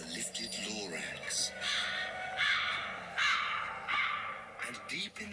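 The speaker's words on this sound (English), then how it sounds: "no birds ever sing excepting old crows" Old crows cawing in a bleak, sour-smelling wind, a few harsh calls spread over the span under a steady narrating voice.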